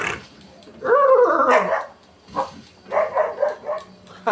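A dog barks in a short burst in Grand Theft Auto V, then a few more yaps follow, with some speech mixed in; the sound has a slightly artificial, game-like quality.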